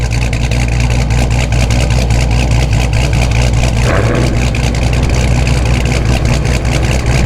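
A 426 Hemi V8 in a car idles loudly and steadily up close, a deep continuous rumble with a slight rise in revs partway through.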